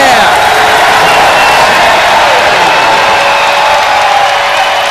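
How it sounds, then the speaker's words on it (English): A capacity crowd at Alumni Arena rises in a standing ovation for Buffalo's college basketball comeback against CMU, a loud continuous roar of cheering, applause and whoops from start to finish. "And a standing ovation from a capacity crowd here at Alumni Arena, cheering on Buffalo coming back from behind."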